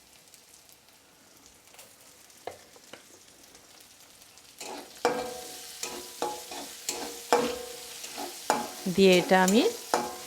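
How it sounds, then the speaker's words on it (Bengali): Onions frying in oil, browning in a pan with extra oil added, sizzle quietly at first and then loudly, with repeated spatula strokes scraping the pan and a few words spoken under the cooking noise. "1 মিনিট ভালোভাবে নেড়ে চেড়ে দেব।"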